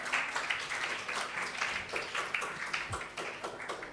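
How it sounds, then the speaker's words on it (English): An indoor audience at an International Children's Day panel event claps for an arriving speaker, a soft, fairly faint patter of many hands keeping an even rhythm for several seconds. "Let's welcome him with a round of applause."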